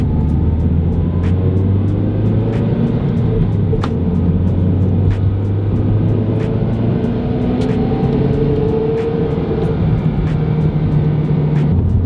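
A MazdaSpeed 3 engine under a full-throttle acceleration pull after warming up, with a steady droning rumble whose pitch climbs gradually across the pull, accompanied by regular clicking ticks and constant loud road noise.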